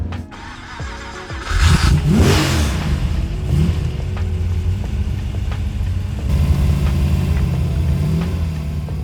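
A 1965 Ford Mustang race car engine, rebuilt for classic racing, revs hard on track test with rising and falling throttle sweeps and a sustained loud mid-range roar close by.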